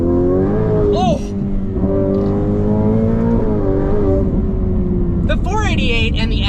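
A Ferrari F8 Tributo with aftermarket exhaust, downpipes and tune accelerates hard, its engine loud and close and climbing steadily in pitch, while a man exclaims over it.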